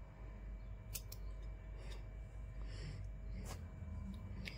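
Knife trimming the front and back ends off ivy gourds (tondli) for a vegetable dish: a few sharp, close snips and taps spaced unevenly over a steady low background hum, with no talking.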